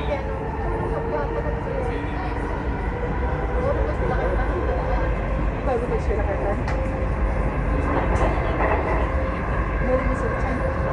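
A Dubai Metro train runs between stations, with a steady rumbling roll, rail clatter and squeal, and a recorded announcement voice in the cabin over the noise.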